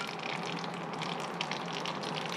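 Old engine oil draining from a log splitter, a steady faint trickling pour of liquid with light splashing, continuous and close.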